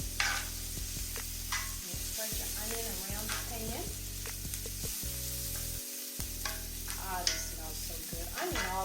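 Chopped onion cooks in a pan over moderate heat, giving a steady soft sizzle with occasional stirring scrapes, close and continuous, and faint voice fragments surface in the background.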